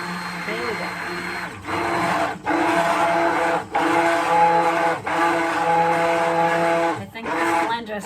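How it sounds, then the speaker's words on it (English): A worn-out blender mixes thick dandelion soap batter, giving a steady, loud motor whir with brief dips and restarts every second or so. "I think this blender is on its last leg."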